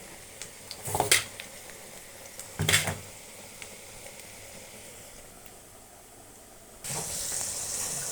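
Chicken with onions cooking in a pan for gongura chicken curry, giving a soft steady sizzle broken by two short bursts of stirring clatter, then a louder hiss near the end.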